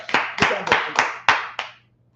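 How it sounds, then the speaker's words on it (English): A class claps together in a few sharp, loud, roughly evenly spaced bursts, about six claps in two seconds, stopping abruptly. "Clap it up for the class."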